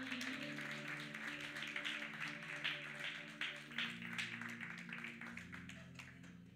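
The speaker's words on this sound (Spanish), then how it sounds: "Un fuerte aplauso para el Señor." A church congregation claps together for the Lord after a prayer, a steady, dense wash of hands over sustained keyboard tones, continuing evenly for several seconds.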